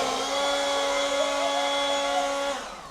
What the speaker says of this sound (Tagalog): are we gonna use the blower?